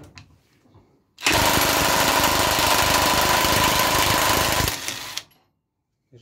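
An impact wrench set to 200 Nm breaks a bolt loose in one loud, continuous burst of rapid hammering lasting about four seconds, then winds down into quiet.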